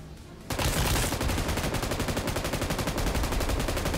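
An M249 machine gun in a video game fires a long, rapid burst after a short quiet lead-in, its shots coming as fast, evenly spaced, loud cracks that run to the end.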